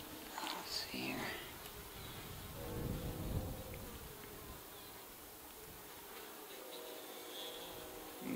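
Bees drone around an open hive during an afternoon inspection in hot, dry conditions, a low continuous buzz close by with a few louder passes and soft voices underneath.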